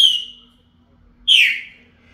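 Chopi blackbird (pássaro preto) calls: two clear, bright whistled notes, the first falling away and the second rising then sliding down after a short pause, close and loud over a quiet background.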